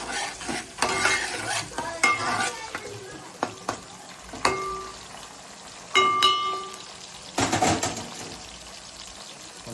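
Green chillies sizzle in a pan, with loud stirring scrapes and clinks coming in bursts and a few louder sputters between quieter stretches of frying.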